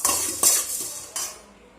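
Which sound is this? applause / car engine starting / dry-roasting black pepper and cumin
dry-roasting black pepper and cumin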